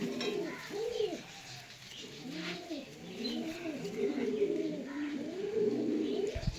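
Repeated soft cooing from a pigeon at a pigeon seller's home, a steady run of rising-falling coos close by over low background noise.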